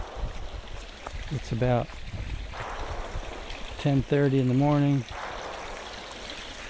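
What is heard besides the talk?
stream at a water crossing on the Appalachian Trail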